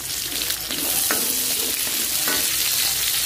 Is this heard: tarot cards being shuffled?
no